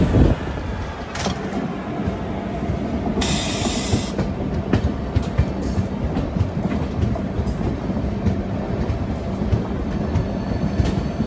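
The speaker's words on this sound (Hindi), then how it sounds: "ये जो आप ट्रेन देख रहे हैं ये है ग्वालियर बरौनी मेल" Gwalior Barauni Mail passenger train arriving at Kanpur Central on a parallel track, a continuous loud rolling rumble with clickety-clack of wheels over rail joints and short metallic screeches, heard close by with no talk.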